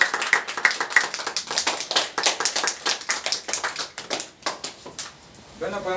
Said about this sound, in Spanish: les pido un aplauso, porque en realidad este es el artista